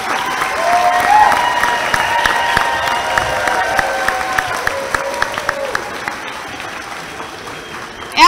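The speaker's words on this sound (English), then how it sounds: "Can we get one last round of applause for our Blue Devil graduating class of 2034?" A crowd at an elementary school second-grade awards ceremony for the Blue Devil class of 2034 breaks into sustained, loud applause with some cheering, clapping continuously for several seconds over faint tonal ringing.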